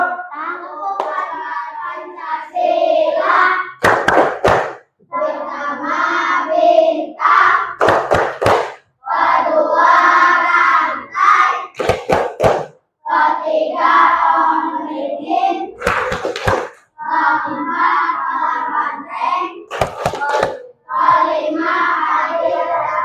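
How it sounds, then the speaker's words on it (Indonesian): A classroom group performs the rhythmic Pancasila emblem clap pattern, with sharp bursts of several quick claps in unison alternating with stretches of voices chanting together. "tepuk lambang Pancasila"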